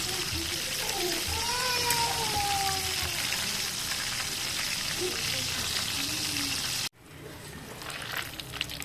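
Wrapped lumpia shanghai fry in hot oil, giving a loud, continuous crackling sizzle that cuts off abruptly near the end, with faint voices in the background.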